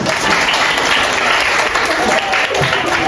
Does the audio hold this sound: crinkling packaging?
no